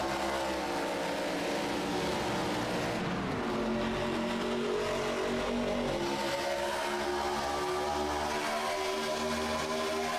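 Race cars in the iRacing game accelerate through the gears on a restart at Daytona, a loud continuous pack of engines with rising pitch sweeps and overlapping cars, no talk.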